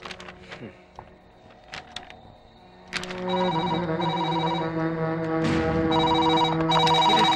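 A telephone rings indoors, with repeated bright electronic trills that become steady and loud after a few seconds. Earlier there are softer clicks and scattered background noise.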